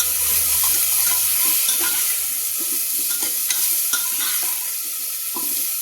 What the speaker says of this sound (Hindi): अब ये देखिए मैं प्याज भून रही हूँ।